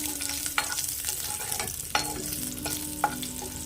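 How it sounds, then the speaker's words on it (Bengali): Four slit green chillies frying in hot oil, with a steady close sizzle and spatter broken by a few brief clanks of a stirring utensil against the pan. "তেল আছে তেলের মধ্যে দিয়ে দেবো চারটি কাঁচা লঙ্কা"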